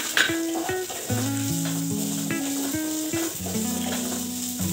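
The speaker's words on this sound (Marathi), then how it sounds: "इथे आपण कांदा गोल्डन होतपर्यंत" Onion fries in a pan with a constant close sizzle, while low humming tones and a few sharp spatula scrapes and taps cut in and out; no speech is heard.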